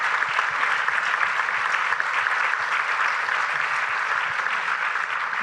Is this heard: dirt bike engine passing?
no